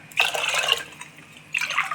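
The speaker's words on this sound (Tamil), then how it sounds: "இதில் ஒரு 5 டம்ளர் தண்ணி சேர்த்துக்கலாம்." Water being poured into rice in a pressure cooker for traditional sweet pongal, two short splashing pours close by, the second briefly after a pause.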